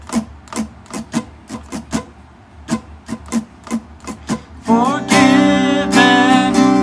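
Acoustic guitar strum pattern for a song, first played as muted percussive chucks in a steady rhythm, then opening into ringing full strummed chords, close and loud, with no voice.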